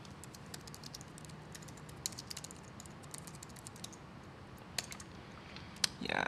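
Steady typing on a computer keyboard, with quick, soft key clicks in an irregular stream and a few louder taps near the end, heard alone against a low background hum.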